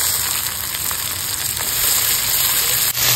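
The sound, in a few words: whole garam masala, cinnamon, cardamom, cloves sizzling in hot oil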